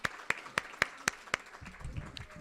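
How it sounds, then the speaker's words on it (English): At an awards celebration honoring women leaders, hands clap in a sharp, evenly spaced run of six distinct claps, close and crisp, before trailing off into a soft murmur of room noise. "let's give a round of applause to Barma Uruchima for her generous contribution"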